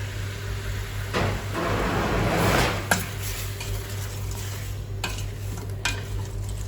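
Peeled fruit stewing with caster sugar in a pan, with steady sizzling and bubbling under a constant low hum, and a few sharp clinks of a utensil against the pan.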